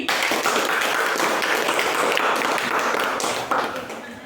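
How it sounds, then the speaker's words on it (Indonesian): A classroom of students claps for a group returning to their seats after presenting, a dense, lively burst of applause that holds steady before tapering off near the end. "Tepuk tangan sekali lagi."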